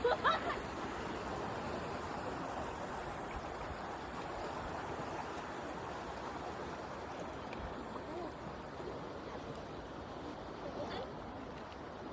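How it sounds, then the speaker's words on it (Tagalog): Strong river current rushing steadily in Norway during a fishing trip, a broad continuous wash of water that stays at an even level from start to finish, with a little faint talk in the background. "Ang lakas ng agos ng tubig."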